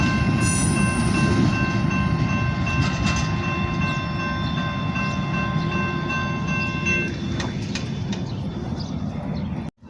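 A train rolls steadily along the rails, its low rumble loud and continuous for the whole stretch, with faint squealing wheel tones above it before the sound cuts off at the end.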